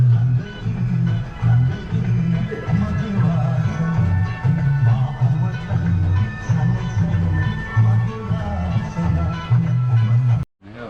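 A Philips valve radio plays through a replacement speaker, giving steady, full, continuous broadcast sound at close range until a brief dropout near the end.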